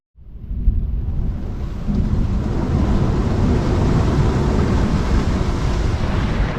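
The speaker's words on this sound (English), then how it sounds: "It's another wet, windy and lightning filled night." A deep, rumbling roar of a lightning storm at sea on a sailboat mid-Indian Ocean builds and holds steady, heavy wind and rain blending into a continuous low thunderous wash, loud with no voices.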